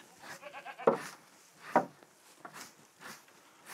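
Goats on a goat cheese farm bleat several times, with two louder, wavering calls standing out among softer bleats nearby.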